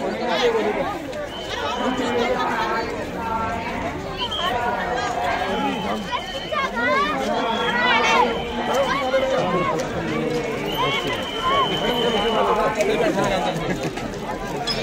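A large crowd inside a bhandara pandal, a constant dense hubbub of many overlapping voices, close and busy for the whole stretch, with individual calls rising out of the babble.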